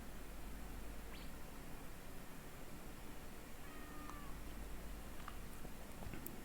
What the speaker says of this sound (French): Ah, voici un chat